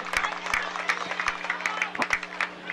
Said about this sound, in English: Crowd gives him a good hand.